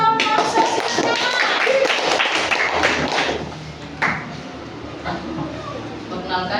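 Audience applause for a school sociodrama group in a classroom, a dense burst of clapping that fades after a few seconds, with voices talking over it.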